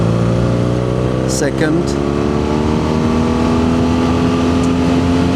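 A 2025 BMW R nineT Scrambler engine hums steadily under a rider's voice at riding speed, with a loud, constant drone and a brief pitch shift as revs change around a gear change.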